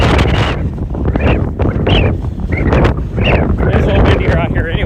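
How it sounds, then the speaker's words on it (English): Strong buffeting wind gusts roaring across an outdoor microphone, stirred up by the wake vortex of a plane coming down to land, steady and loud throughout with a person talking underneath. "Ooh, that's windy. That was from that vortex of that plane coming"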